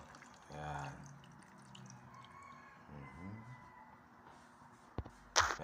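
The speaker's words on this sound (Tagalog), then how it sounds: "Tapos, lalagyan natin siya ng tubig." Water pours into a pot of Filipino sinaing na tulingan, a tuna dish seasoned with cracked pepper and vinegar, giving a soft splashing trickle with a few drips, then a sharper clatter near the end.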